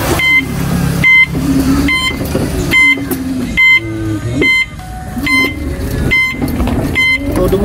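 A car reverses while regular high-pitched reversing beeps repeat roughly every second over a low engine rumble, close by and steady.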